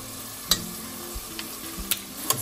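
Spices frying in oil over a medium flame for Rayalaseema khuska rice give a steady soft sizzle, with a few sharp clicks of a spoon stirring in the pan, close by.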